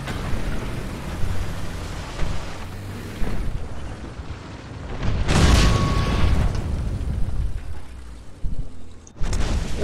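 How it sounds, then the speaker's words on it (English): Artillery shells burst in the War Thunder tank game, a constant rumbling battle din swelling into a loud, heavy blast midway, with another sharp boom at the end and no talk. "Stop firing all those artilleries on me."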